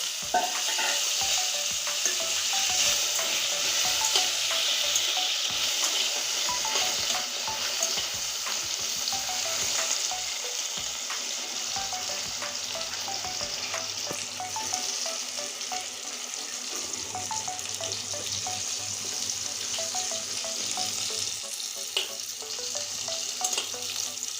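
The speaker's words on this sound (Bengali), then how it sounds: "আমি এখন এই গাঁটি গুঁচোগুলো ভেজে নিচ্ছি তেলের উপরে ভেজে দিচ্ছি" Taro (arum) pieces fry in hot oil, a steady bright sizzle with occasional stirring scrapes and small crackles, continuous and close with no talking.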